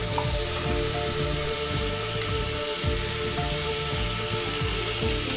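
Onion paste frying in a pan for a cabbage kofta curry sizzles steadily up close, with a constant crackling hiss and a faint low hum underneath.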